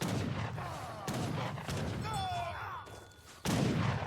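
Dragoon cavalry in Age of Empires 3 fire a few musket shots in a battle: several sharp gunshot cracks spaced about half a second apart, then a final louder shot, over game ambience.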